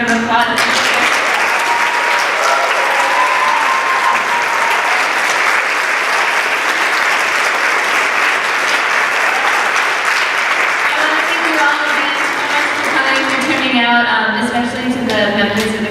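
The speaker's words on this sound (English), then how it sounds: "let's give one more huge round of applause." Sustained, dense audience applause fills a community event on migrant rights, loud and continuous for about sixteen seconds, with voices and cheers mixed in toward the end.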